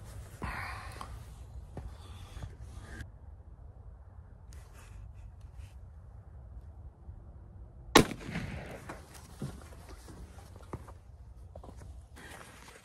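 A .223 rifle fired into ballistic gel gives one sharp, loud crack about two-thirds of the way through, standing out against quiet outdoor background and faint movement.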